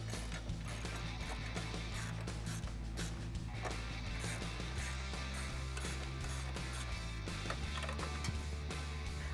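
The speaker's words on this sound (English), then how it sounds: "Grab your included Allen key and 10mm ratcheting wrench and tighten down the rest of the hardware." A 10mm ratcheting wrench clicks steadily while tightening bracket hardware for a RedRock curved side step bar on a Jeep Wrangler JK 4-door, a dense, continuous run of close, loud ratchet-pawl clicks with a low mechanical hum underneath and no talking.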